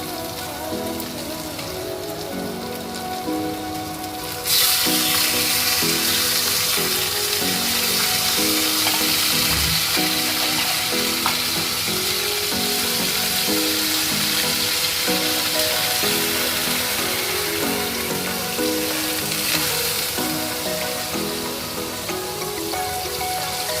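Pabda fish pieces frying in spiced oil for a Bengali malai curry; quiet at first, then a loud steady sizzle bursts in and keeps going evenly with soft background music, no talk.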